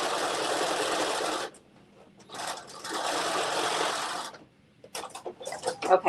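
A home sewing machine runs in two sustained bursts of stitching on dress shoulder seams, separated by short pauses, followed by a few quick stuttering runs near the end, loud and close with no talk.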